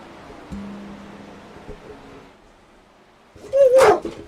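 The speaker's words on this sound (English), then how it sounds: "the dogs have notified me that somebody is home, probably mom" A dog gives a short yelp and whine, then after a pause lets out one loud bark nearby at a home.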